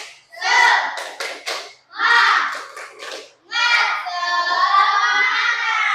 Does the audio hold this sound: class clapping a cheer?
yes